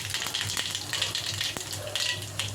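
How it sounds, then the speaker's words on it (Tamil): Mustard seeds frying in hot oil on a stove for a tamarind kuzhambu, spluttering with a steady stream of close, crackly pops and sharp snaps. "கடுகு நல்லா பொரிஞ்சதும்"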